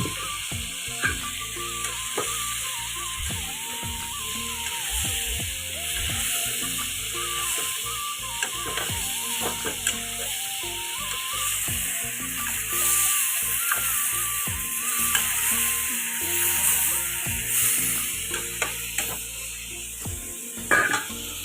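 A homemade spice paste frying in a pan and being stirred, a continuous close sizzle broken by repeated scraping and tapping of the spoon against the pan, no talking.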